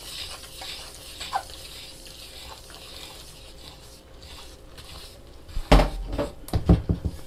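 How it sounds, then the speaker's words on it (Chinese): Chopsticks stirring all-purpose flour, baking powder and water in a bowl to make steamed bun dough. After a quiet stretch come a few close clinks and scrapes against the bowl, which grow more frequent toward the end. "然后用筷子把它搅拌成大面絮状。"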